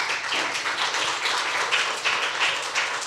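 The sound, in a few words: audience applause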